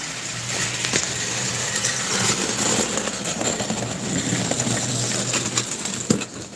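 An O scale model train runs on a home layout, with a steady mechanical hum and motor whir that holds close and fairly loud throughout, broken by a few light clicks and a small knock near the end.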